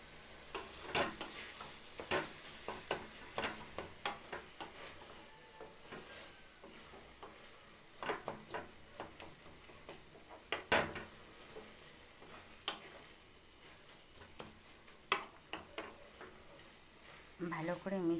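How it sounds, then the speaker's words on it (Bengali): A curry with a spoonful of yogurt and a little sugar is stirred in a pan, with repeated scraping strokes and clinks of the spoon over a soft sizzle, each stroke sharp and close. "এবার আবার ভালো করে মিশিয়ে নেব"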